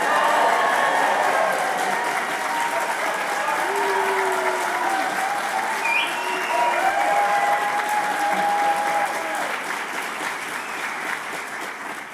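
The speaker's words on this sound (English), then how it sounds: "I want clapping and a big cheer for the class of 2026" Graduating class of 2026 applauding at a university graduation ceremony: sustained, loud crowd clapping with some cheering, steady throughout and fading slightly at the end.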